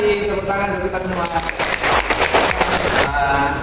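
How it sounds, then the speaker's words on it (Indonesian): Group applause after young teachers finish singing a youth song together, clapping blending with overlapping voices and a noisy crowd murmur. "tepuk tangan untuk kita semua"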